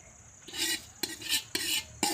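Grated coconut roasting dry in a pan, stirred in four quick scraping strokes, each a bright gritty swish with a light clink of the spoon against the metal, close and alone.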